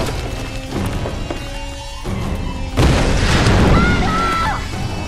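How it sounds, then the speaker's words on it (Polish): An explosion in the video game Tomb Raider: Definitive Edition lands as a loud, deep boom followed by rumbling debris, with game sounds and voices around it. "Wybuch wysadził wszystko?"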